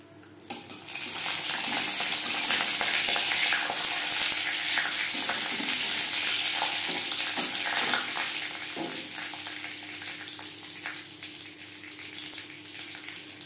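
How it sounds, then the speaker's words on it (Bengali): Chopped cashews fry lightly in a pan for suji halwa, a steady soft sizzle with faint stirring clicks, fairly quiet and continuous. "প্রথমে দিয়ে দেব টুকরো করে রাখা কাজু, হালকা করে ভেজে নেব।"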